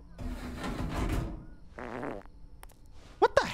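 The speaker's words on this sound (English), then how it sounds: "Oh, it's me farting." A player's fart breaks out during a Barn Finders gaming session: a low, rumbling burst running a second or so, followed by a short rasping stretch and a couple of sharp clicks, with faint speech nearby.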